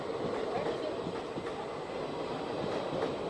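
An express train pulls out of Dadar station in Mumbai on the Western Railway, rumbling steadily up close with a rhythmic rail clatter, and faint crowd voices can be heard in the background.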